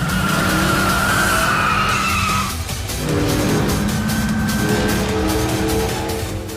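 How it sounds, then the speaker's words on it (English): Race car in Yakuza 5 skidding during a high-speed highway race, with loud sustained tire squeal over a roaring engine and a brief dip before the screech resumes, close and continuous, with no talking. "you can let loose on the highway with high-speed races"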